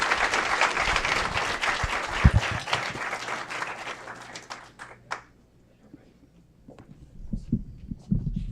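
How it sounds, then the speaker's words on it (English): An audience at a city council committee meeting in Aurora breaks into loud sustained applause for the housing authority's executive director, fading out after about five seconds, with faint voices and a few scattered claps following. "Give him a round of applause as he makes his way"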